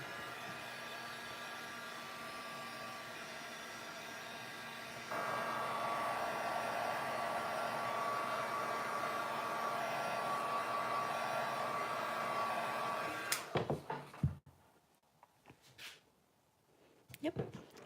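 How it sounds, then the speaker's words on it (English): A hair dryer runs close and loud in a steady whoosh, drying chalk paint on a sign. It gets stronger partway through, then cuts off, followed by brief handling noises. "I need to dry this before I do anything else."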